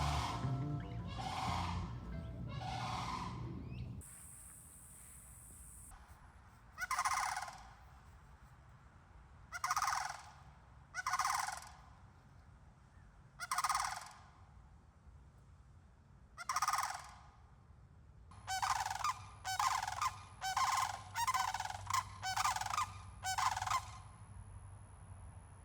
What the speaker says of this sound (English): Sandhill cranes aren't exactly unusual around here, but I don't think I'll ever get tired of seeing or hearing them.